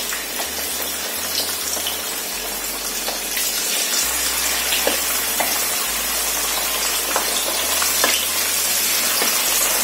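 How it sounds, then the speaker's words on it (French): Salmon pieces fry in hot oil for spaghetti carbonara, giving a loud, continuous close-up sizzle and crackle with scattered pops throughout. "L'huile est déjà suffisamment chaude. Je vais donc mettre nos poissons."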